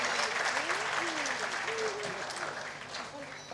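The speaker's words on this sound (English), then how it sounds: "a big round of applause for Tiara Sengupta" Audience at a school annual day celebration applauding a young girl, loud continuous clapping from a large crowd with voices mixed in, tapering slightly toward the end.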